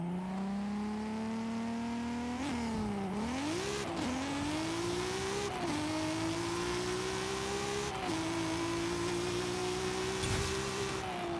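A 1600-horsepower 1998 Toyota Supra drag-tuned in Forza Horizon 5 launches and accelerates hard, its engine droning and rising through several gear shifts, loud and continuous with no talking.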